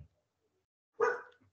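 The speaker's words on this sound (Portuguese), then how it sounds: "Estou escutando a minha cachorra latir, né?" A dog gives a single short bark, fairly close and alone after near silence, followed by a faint trailing yelp.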